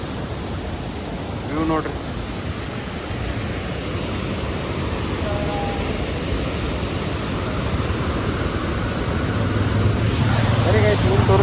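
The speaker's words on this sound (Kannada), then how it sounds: "ನೋಡ್ರಿ ಇಲ್ಲಿ ವಾಟರ್ ಫಾಲ್ಸ್ ಹೆಂಗೈತಿ" A monsoon waterfall in Munnar gives a steady, broad roar throughout, with a person speaking briefly over it.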